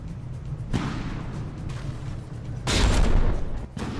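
Gunfire and explosions from a naval frigate battle in the game From The Depths: a steady rumble of cannon fire broken by two sharp, loud blasts, the second one longer and heavier.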